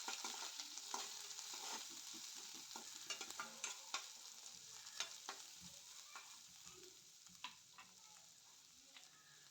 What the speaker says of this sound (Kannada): ಈರುಳ್ಳಿ ಮತ್ತು ಹಸಿಮೆಣಸಿನ್ಕಾಯಿ ಹಾಕ್ತಾಯಿದ್ದೀನಿ. ಅವೆರಡು ಸ್ವಲ್ಪ ಫ್ರೈ ಆಗಲಿ